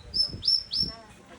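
A tampios whistle of the Palaw'an tribe in Palawan, used to imitate bird and squirrel calls, gives three short, high, rising chirps in quick succession, close by, with faint low background sound underneath.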